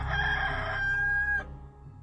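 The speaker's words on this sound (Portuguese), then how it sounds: "no mesmo instante cantou o galo" A rooster crows once in a long, drawn-out cock-a-doodle-doo that holds a steady pitch before cutting off, clear and fairly close against a quiet low background.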